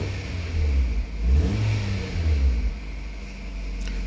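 The engine of a 2009 Nissan Cube with a no-acceleration fault and code P1238 revs up and drops back. A low, steady motor drone swells and eases a few times close by, with no voices.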